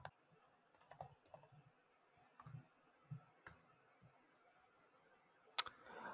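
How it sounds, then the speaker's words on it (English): Quiet, close typing on a computer keyboard, with irregular clusters of soft key taps and clicks separated by short pauses and one sharper click near the end, with no talking. "I'm gonna go to my list right now, and I'm gonna type in feng fu."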